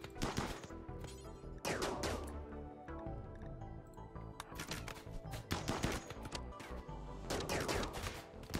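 Gunfire in the colony game RimWorld, repeated bursts of sharp shots in clusters over a steady background, fairly loud and close.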